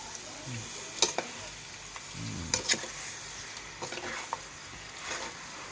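Thai curry paste is stir-fried in a pan. A faint sizzle runs throughout, broken by a few sharp scraping and clinking stirs of the utensil against the pan, with no voices.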